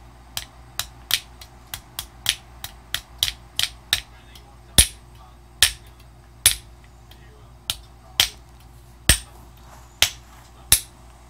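Sharp metallic taps ring out one after another at a steady pace as a tab on a Coleman CT100U clutch ring is bent down flat. The strikes are close and clear over a quiet background.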